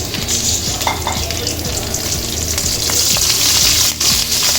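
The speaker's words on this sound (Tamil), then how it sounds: "இந்த பச்சை மிளகாயும் நம்ம பொரிச்சு அள்ளிடுவோம்." Green chillies frying in hot oil, with onions in the pan, give off a loud, steady sizzle and bubble. A spoon stirs through them now and then, scraping and clinking against the pan.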